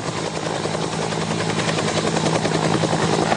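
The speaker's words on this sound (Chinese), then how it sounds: "这架陆军 UH-1H 通用直升机进行吊挂救援" An Army UH-1H utility helicopter flies close overhead during a military demonstration, its loud, steady rotor thrum and engine roar filling the scene without pause.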